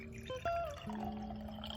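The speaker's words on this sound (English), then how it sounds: "when I pour water into this jar" Water pours into a jar in a brief, quiet trickle with a rising, ringing fill tone, heard alone.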